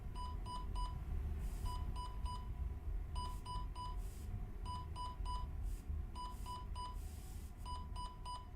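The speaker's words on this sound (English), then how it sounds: "There's an alarm going off." Repeating electronic beep alarm aboard a space station in a video game, sounding in quick bursts of three tones with short gaps throughout, steady over a dense low rumble of ambient machinery.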